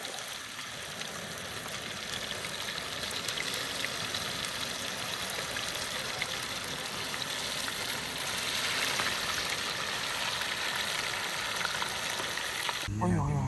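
Fish pieces frying in a pan outdoors at a cold mountain campsite on a gas cylinder stove, a steady broadband sizzle like rushing water holding for the whole stretch, ending with a brief clatter.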